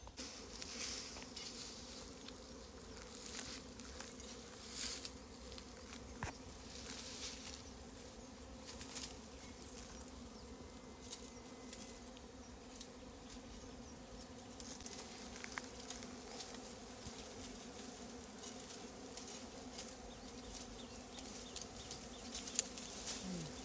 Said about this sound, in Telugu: పొగతో ఈగలు లేపినాడు